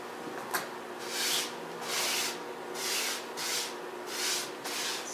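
Scissors cut through upholstery fabric for a sleeper sofa, a sharp blip followed by five regular rasping strokes, close and steady, with no talking.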